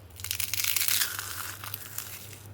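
A crisp fried sago papad snapping and crumbling to pieces by hand, a dense burst of dry crackling crunches over about two seconds, close and fairly loud, with no talking.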